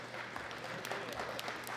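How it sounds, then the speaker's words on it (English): Audience applause at the Junior Men's 93 kg medal ceremony of the 2018 World Classic Powerlifting Championships, a steady, fairly quiet wash of clapping heard from a distance in a hall. "he gets a round of applause."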